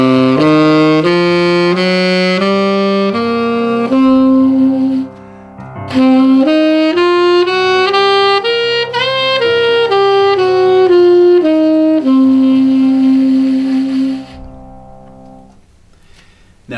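A saxophone plays the blues scale, clear sustained notes stepping up and back down one after another, loud and close with no talking.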